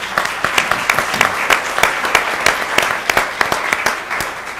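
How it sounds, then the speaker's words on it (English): Close, loud audience applause at a political breakfast forum, with individual claps clearly audible in a brisk, steady rhythm throughout. "So round of applause"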